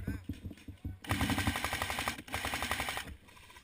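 Airsoft guns firing in bursts during an outdoor airsoft battle, a dense rattle of rapid shots through the middle of the clip after scattered earlier pops, with players calling out around it.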